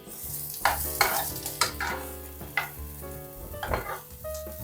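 Onions sizzle gently in a pan while a utensil scrapes and stirs in repeated strokes, fairly close and moderately quiet, with no talking.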